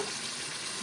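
Prego pasta sauce with garlic being stirred in a pan, giving a brief, steady, close sizzle with no voices.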